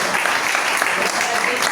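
Close, loud applause from a crowd at a poetry gathering in a library, a short dense burst of clapping filling the whole moment without pause.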